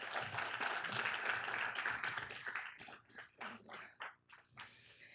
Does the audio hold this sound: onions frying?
no